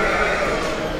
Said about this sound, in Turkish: Burada dediği gibi birer kuzulu koyunları var.